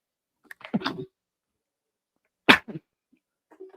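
A single sharp sneeze bursts out abruptly after a couple of faint breathy sounds, close to the microphone, followed by a short quiet sniff.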